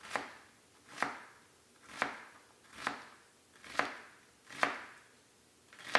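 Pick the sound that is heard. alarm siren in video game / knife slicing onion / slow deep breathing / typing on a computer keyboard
knife slicing onion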